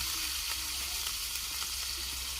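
Onion and garlic frying in oil in a pan, a dense, even sizzle held steady throughout at a close, moderate level, with no voices.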